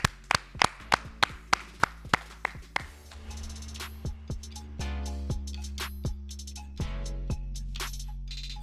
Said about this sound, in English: Ahmed, clap it up. Clap it up.